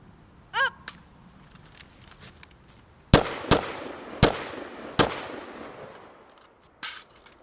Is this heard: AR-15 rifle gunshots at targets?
yes